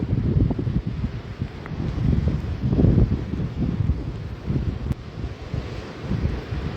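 Sea waves washing onto a wide, nearly empty sandy beach at Purusottampur, a steady low rumbling surge with gusty wind noise over the microphone, no talk.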